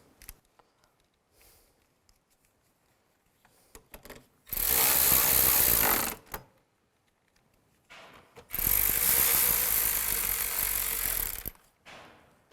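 Screws being driven in with a power tool while reinstalling a rear window regulator on a 2005-15 Nissan Xterra, two loud whirring bursts of about two and three seconds, close by, with faint handling clicks between them.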